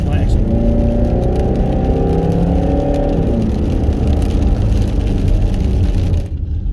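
A Land Rover Freelander 2 with a 2.2-litre, 190 bhp diesel engine drives along, its engine note a loud, steady hum from inside the car that stays constant before cutting off sharply near the end.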